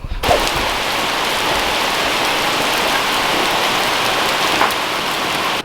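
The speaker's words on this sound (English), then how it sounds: "Now look at it. It's pouring." Heavy rain pours steadily onto the ground and surfaces, a dense, loud, unbroken hiss that lasts throughout with no other sounds over it.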